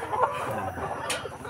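A rooster and hens cluck on a free-range chicken farm, short close clucks and murmurs in a brief busy burst, with no talk over them.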